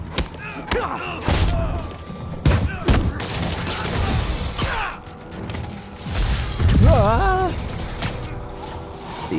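Bursts of gunfire and metallic clatter at a police barricade in Marvel's Spider-Man, irregular loud shots and impacts mixed with someone speaking and scattered crashes.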